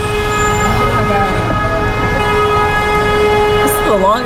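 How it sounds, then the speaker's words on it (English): A Mazda or Toyota car horn blares continuously in traffic at Universal CityWalk, a loud sustained tonal note running throughout with people talking underneath. "This is the longest honk ever."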